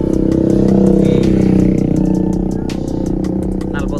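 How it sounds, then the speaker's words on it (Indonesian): A motorcycle fitted with a Bakar brand exhaust revs loudly and close up, its engine note rising and falling steadily through the whole stretch, with metallic clatter mixed in. "knalpotnya merek Bakar"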